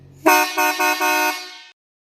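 A loud, close truck horn blasts in a rapid series of honks that merge into one sustained blare before cutting off abruptly.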